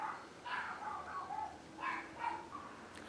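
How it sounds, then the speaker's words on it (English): Neighbor's dogs barking outside, faint and distant through a window, several muffled yips and barks in two short clusters. "I do apologize about the random dog noise"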